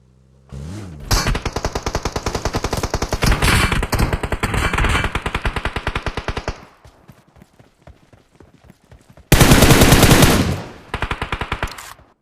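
Loud, rapid bursts of automatic gunfire from the mobile shooter PUBG Mobile, a long rattling volley, scattered single shots, then another intense burst and a short trailing round.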